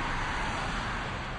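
Sports car running flat out down a straight toward nearly 200 km/h, a dense continuous roar of engine and road noise, loud and unbroken, with no voices.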